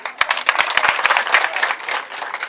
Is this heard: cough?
no